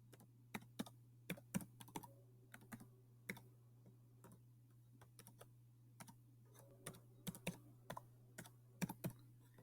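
Slow, irregular keystrokes on a computer keyboard, close and crisp, coming in scattered clusters with gaps between them over a faint constant electrical hum.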